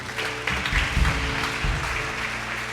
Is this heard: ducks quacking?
no